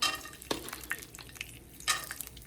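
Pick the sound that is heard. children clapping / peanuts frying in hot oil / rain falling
peanuts frying in hot oil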